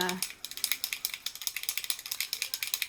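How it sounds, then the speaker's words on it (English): A rapid, steady rattling clatter of a small object shaken back and forth inside a spray bottle, continuing for a few seconds. "I'm trying to get it all shaken up because this is my background paper"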